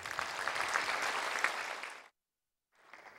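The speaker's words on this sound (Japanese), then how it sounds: "講師の皆様方には絶大なる拍手をお願い申し上げまして" An audience applauds lecturers at a Japanese ballroom dance association event, a dense, fairly loud clapping that fades out, a brief silence, then a softer burst of clapping returns.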